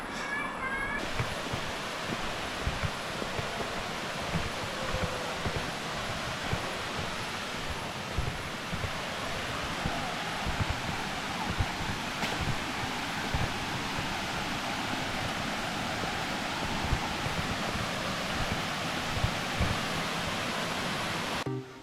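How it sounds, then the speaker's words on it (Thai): A continuous broad roar of a waterfall flowing, steady and unbroken throughout, heard from nearby. "ได้ยินเสียงน้ำตกไหมครับ"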